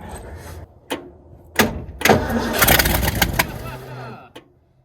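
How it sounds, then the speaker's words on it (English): The engine of a 1967 Ford dump truck cranks and catches, rising into a rough, loud running rumble after a few sharp clunks. A voice speaks over it. "Maybe it'll just fire right off."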